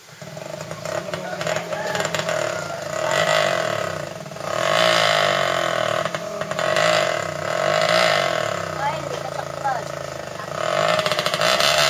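A motor tricycle hauling a caged pig runs with a loud, steady engine drone whose pitch rises and falls, carrying a gritty mechanical rattle and grinding throughout. A worn, burned-out clutch may add to the strain.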